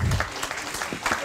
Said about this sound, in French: Donc je vous demande d'applaudir Monsieur Stéphane Beauchat, président du studio MACMA